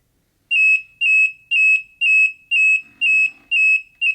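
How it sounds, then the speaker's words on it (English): Alarm of an RDS-32 radiation survey meter: a loud, steady series of identical high electronic beeps, about two per second, repeating alone and close up. "this ends the alarm demonstration of the RDS-32"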